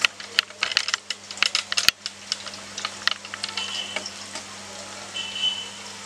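Wild Indian gooseberries (amla) frying in a pan: a crisp, crackling sizzle with many sharp pops and spits, busiest in the first two seconds and then thinning to scattered crackles over a steady hiss.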